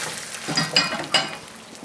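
A spoon scrapes and clinks a few times against a pot while tomato sauce is stirred, three short bursts close by over a faint background.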